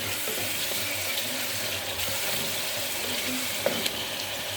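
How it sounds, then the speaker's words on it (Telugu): Onion and ginger-garlic paste stirred in a pan over a low flame give a steady, continuous sizzle with faint scraping, even in level throughout and without speech. "మొత్తం కలిపి పచ్చివాసన పోయేంత వరకు మనం బాగా లో ఫ్లేమ్లోనే పెట్టుకొని బాగా తిప్పుకుందామండి"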